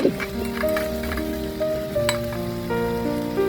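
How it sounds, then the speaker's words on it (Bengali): Meat and spices frying in a tiny miniature pan, a steady close sizzle with light clinks of a small utensil against the pan, no talk. "আমি এখন মাংসটা রান্না করবো, সেজন্য আমি মশলাটা সুন্দর করে কষে নিলাম"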